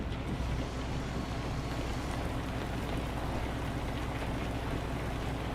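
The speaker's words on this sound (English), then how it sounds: "my button opens a window, letting in the rain" Steady broadband rain hiss with a low engine drone runs unbroken through an open cab window of a truck in Euro Truck Simulator 2, loud and close throughout.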